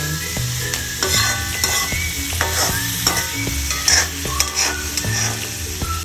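Fish curry ingredients deep-frying in a pan, a loud constant sizzle with repeated scraping and knocking of the spoon as they are stirred, close up with no talking.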